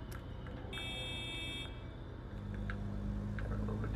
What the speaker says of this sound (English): Just honk your horn